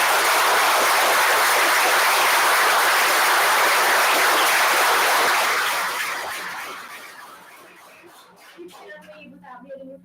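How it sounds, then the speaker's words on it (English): Applause from the audience at a school board meeting, a steady wash of clapping for about five seconds that then fades out, leaving faint room sounds and a little scattered noise. "So round of applause."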